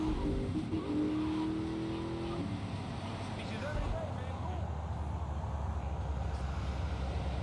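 A car engine roars and accelerates continuously in the video game GTA Vice City, with some tire noise, steady and loud, with a voice talking over it.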